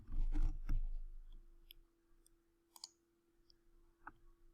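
A computer mouse gives a few small, sharp clicks spaced irregularly after a louder muffled handling thump at the start, faint and close with a steady low hum underneath; no talking.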